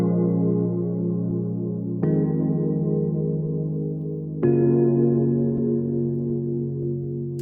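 Keys and a synth pad play a chord progression together in a beat, sustained harmonic chords changing at about two and four and a half seconds, steady and moderately loud with no voices.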